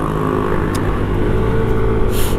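A Yamaha Aerox turbo automatic scooter, ridden in sport riding mode, holds a steady droning engine note near and loud, with wind rush across the whole stretch.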